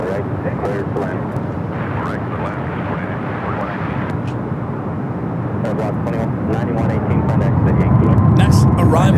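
A jet airliner landing on runway 24 right at Los Angeles International Airport, heard as a loud steady engine roar that grows slightly toward the end, with a voice talking over it.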